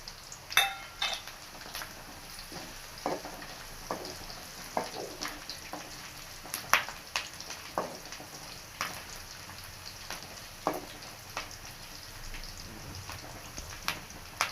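Curry leaves and sliced okra frying in hot oil for lady's finger fry, with a steady crackling sizzle broken by sharp pops and spatters and the occasional stir, and no voices.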